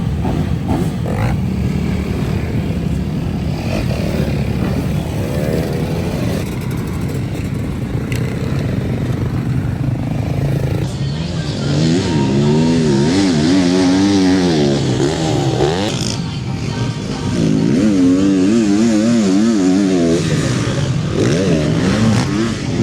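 Dirt race motorcycles roar continuously around a rain-soaked track at a race in Catillon, their engines rising and falling in repeated revving waves as bikes pass, loud and close throughout.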